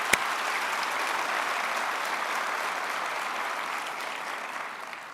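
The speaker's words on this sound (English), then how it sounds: "So another round of applause for those people individually." Graduates and guests at a university fall commencement ceremony applaud together, a steady wash of clapping from a large crowd that stays even throughout, with one sharp nearby clap near the start.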